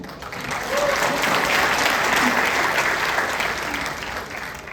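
Audience applause at a live interview event with actors, a steady wash of clapping that swells in and holds for several seconds before easing slightly, with no talk over it.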